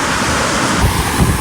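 Rough, high sea waves wash onto a pebble beach in a loud, continuous roar, with wind buffeting close by.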